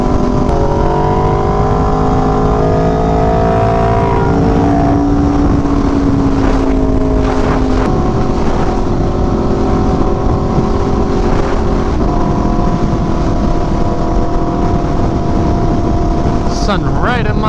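Aprilia RSV4 1100 Factory motorcycle engine revving hard through the gears while riding, a loud continuous drone with rising and falling pitch as it shifts, wind buffeting throughout and a voice talking over it.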